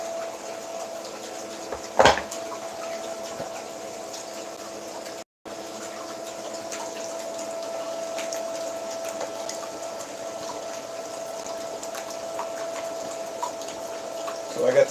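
Water pump pushing about 800 gallons per hour through a sluice set at roughly ten degrees, a steady low hum with running water, a brief knock near the start and a short dropout partway through.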